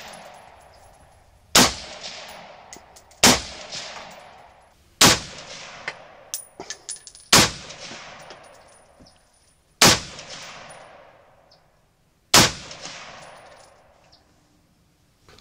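Six loud, evenly spaced single shots from JP Enterprises rifles ring out one at a time, each crack followed by a fading echo and a short pause before the next.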